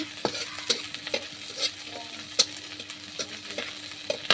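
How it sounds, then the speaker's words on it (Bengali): Onion frying in a pan, a light sizzle under repeated sharp scrapes and taps of a spatula stirring at an irregular rhythm, close and alone without talk. "এবার আমরা পেঁয়াজটা ভেজে"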